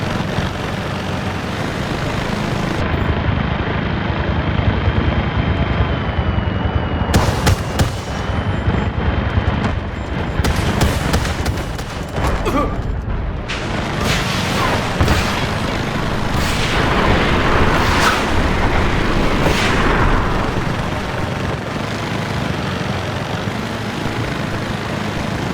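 Artillery barrage in the Delta Force shooter game, a loud, sustained roar of repeated heavy booms and blasts over about twenty-five seconds, dense and near, with a droning aircraft-like rumble underneath.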